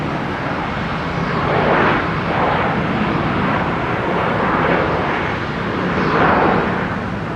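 A Sun Country Boeing 737 converted freighter in blue Prime Air livery at Minneapolis–St. Paul Airport gives off a broad, steady jet roar that swells and eases slightly, heard from a distance with no voices.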